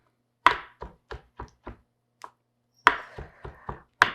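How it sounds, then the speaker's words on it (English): Knife chopping dried porcini mushrooms on a board in two quick bursts of sharp, evenly spaced chops, about a dozen in all, close and clear with a short pause between. "I am chopping up the dried porcini mushrooms that I pulled out"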